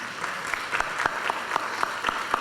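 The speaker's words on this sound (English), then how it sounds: "Can we get an applause?" Applause at a public-health panel session on syndemic approaches, heard as a steady, fairly sparse rhythm of distinct claps at a moderate distance, with no one speaking.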